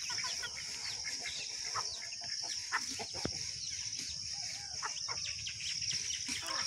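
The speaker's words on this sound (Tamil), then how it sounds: "கோழி இன்றைக்கி தீவனம் நடத்திட்டுருக்கு." Chickens feeding at a farm cluck and call softly in a steady scatter of short notes, with a continuous high hiss of insects or background behind them and no talk.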